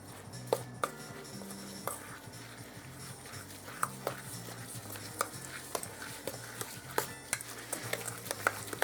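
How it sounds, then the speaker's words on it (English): Apples, sugar, flour and spice for an apple pie are stirred together in a bowl, with a soft scraping churn and irregular clinks of the utensil against the side, close and quiet. "mix apples, sugar, flour, and spice together until well blended"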